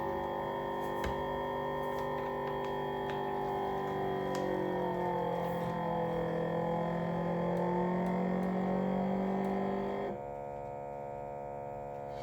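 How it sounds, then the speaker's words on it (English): A loud, steady motor drone from a vacuum sealer pumping air out of a bag of chicken, holding an even pitch, then dropping to a quieter hum near the end. "I'm going to do vacuum and seal. So it's going to get loud"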